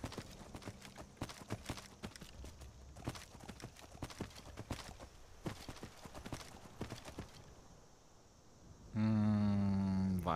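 A horse in Skyrim, ridden by the player, gallops with steady rapid hoof clip-clops for several seconds, then the hoofbeats fade and a loud tonal music cue takes over.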